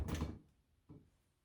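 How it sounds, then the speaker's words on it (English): A heavy oven door thumps shut after bread is put in, followed by a softer knock a moment later, close by in a quiet kitchen. "Close oven."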